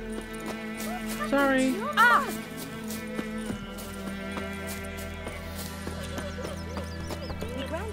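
A horse in the video game The Witcher 3 clip-clops and gives a short whinny amid game music, while someone talks briefly over it.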